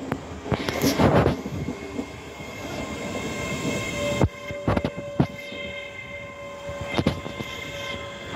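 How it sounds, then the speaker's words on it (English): A three-car passenger train pulls into a station, its wheels rumbling and clanking in repeated bursts with a faint squeal, while station ambience continues underneath. "this train's actually a three car and it stopped all the way over there"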